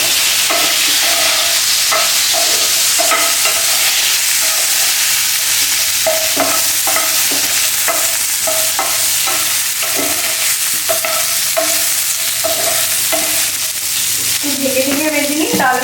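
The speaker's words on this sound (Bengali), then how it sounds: "এবার আমি ফুলকপিগুলো ভালো করে ভেজে নেব।" Cauliflower pieces frying in oil with turmeric and salt crackle loudly and steadily in a pan, with repeated scraping stirs of a spatula in an irregular rhythm, heard up close.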